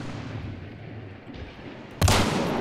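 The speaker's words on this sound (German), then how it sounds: "Ich schieße." After a low, rumbling quiet, a single loud, sharp gunshot from a Bulldog in the game Hunt: Showdown cracks close by, followed by a short ringing tail.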